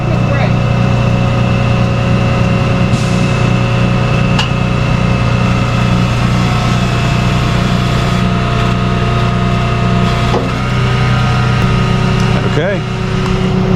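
A semi truck idles with its air brakes applied, a steady loud rumble of low engine tones running throughout, with brief hisses and clicks on top and a voice speaking over it.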